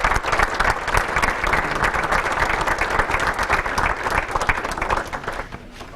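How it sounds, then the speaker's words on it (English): Sustained applause rings out from a banquet audience honoring sports hall of fame inductees, a loud, dense crowd clapping throughout that tapers slightly at the end. "If you all give them a round of applause, they really deserve it."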